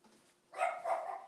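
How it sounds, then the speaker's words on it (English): A single short dog bark rings out nearby after a brief near-silent pause, a clipped, moderately loud yelp. "The dog barking?"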